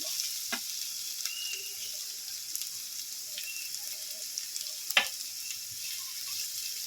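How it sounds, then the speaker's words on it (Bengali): Chopped onion and green chili fry gently in hot oil, a soft continuous sizzle with a couple of sharp clinks of a utensil against the pan. "হালকা করে একটু ভেজে নেব লাল করে পেঁয়াজ ভাজবো না"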